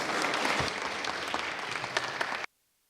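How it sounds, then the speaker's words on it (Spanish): A conference audience gives the speakers a loud round of dense, sustained applause, which keeps going evenly and then cuts off abruptly. "Yo pido a todos ustedes un aplauso para nuestros expositores."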